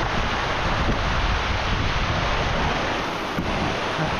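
Creek water rushes around a person sitting in it, a loud broadband wash with wind-like buffeting close to the microphone, steady throughout with no talk.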